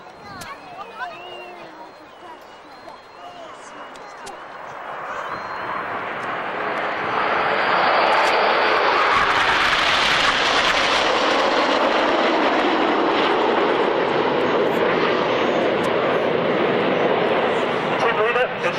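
Aerobatic team jets flying in Lancaster formation at the 1993 RAF Waddington Airshow, a distant roar building into a loud, sustained rushing pass, with a commentator speaking throughout.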